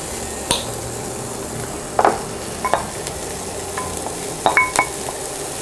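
Onions sautéing in oil in a pan give a soft, continuous sizzle, broken by a few sharp spoon clicks and scrapes against the pan, close by with no talking.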